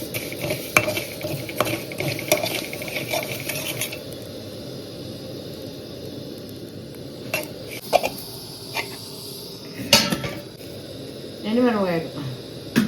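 Cumin, coriander seeds and dried red chilies dry-roast in a pan without oil; a utensil scrapes, clinks and rattles against the metal in bursts while a person talks over it.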